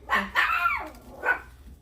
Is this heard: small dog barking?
yes